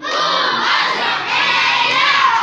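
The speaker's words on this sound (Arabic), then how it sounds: "قوم اصرخ الى الهك" A crowd of children in a church shouts a prayer to God together, one loud, continuous, bright chorus of young voices lasting a couple of seconds.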